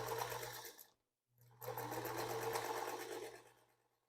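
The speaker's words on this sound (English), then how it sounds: "I'm just chain stitching these all together, picking them all up." A sewing machine chain-stitches quilt fabric pieces, running in a steady close whir that stops briefly and then resumes, alone.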